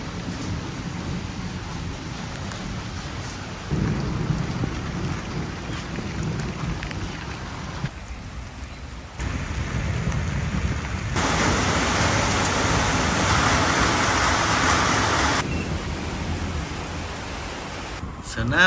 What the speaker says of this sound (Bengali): বৃষ্টি হচ্ছে চলো আমরা বৃষ্টি দেখতে যাবো